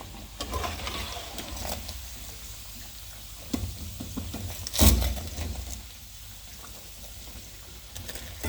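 Chicken burger patties frying in a pan give a low continuous sizzle, with faint clinks and one louder knock or scrape about midway, close and moderate in level.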